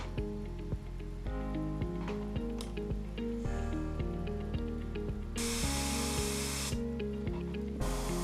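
An airbrush spraying thinned paint at low air pressure, about 15 psi, for stencil painting a ghost perch pattern: two bursts of steady hissing spray, the second broken by a short pause, over a quiet tonal background.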